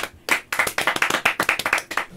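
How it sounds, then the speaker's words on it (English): A small group gives a quick round of applause during a gaming show, a brief burst of rapid, close hand claps lasting about two seconds. "I think round of applause for Nikkie on that one."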